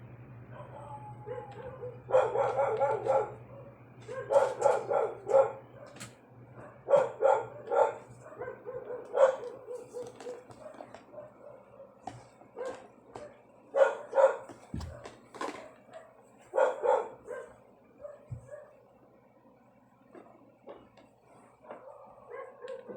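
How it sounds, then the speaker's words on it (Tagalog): Dogs bark repeatedly in bursts and clusters, some yips among them, moderately distant, with brief pauses between volleys and no talking. "Ayan ang mga aso."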